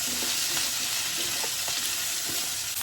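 Onion, cumin, asafoetida and green chillies sizzle in hot oil with a steady crackle, broken by a few soft scrapes of stirring up close.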